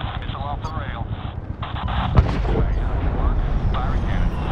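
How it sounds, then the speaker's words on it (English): Gunship missile launch in the video game Medal of Honor 2010, a sharp whoosh and boom rising out of rumbling battle noise, with radio chatter and voices talking over the rest. "Missile off the rail."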